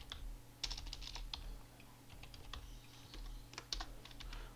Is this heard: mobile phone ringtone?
no